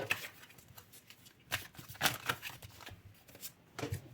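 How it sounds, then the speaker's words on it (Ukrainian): Soft, uneven bursts of playing cards being shuffled and riffled close by, with short pauses between. "випадають прям карти"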